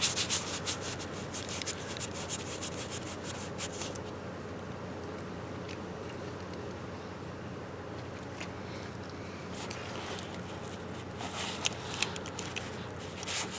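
Covers are screwed by hand onto a boat guard. A steady close-up rubbing and scraping texture carries on throughout, with a few faint clicks and small knocks near the end and no talking.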